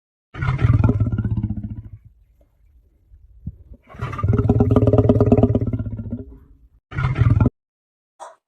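Lion roaring up close in three loud bursts, the first two long and rumbling, the last short, with quiet gaps between.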